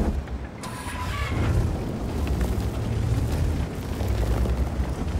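A tank cannon in a video game fires an APCR round with a sharp opening blast, and a loud rumbling roar then continues for several seconds.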